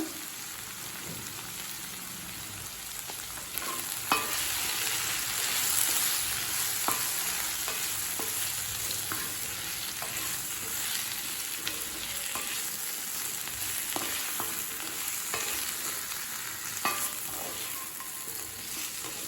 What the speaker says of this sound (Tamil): உருளைக்கிழங்கு நல்ல கலர் மாற வரைக்கும் வதக்கிக்கலாம்.